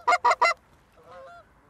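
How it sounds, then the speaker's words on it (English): Three loud, close goose honks come in quick succession during a goose hunt, followed by fainter, more distant calls from the approaching flock. "Yeah, a huge flock is coming here right now."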